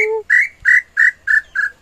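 A bird call whistle (pio) is blown, giving a clear opening two-tone note then five short, sharp, evenly spaced whistled chirps, loud and close with no talk.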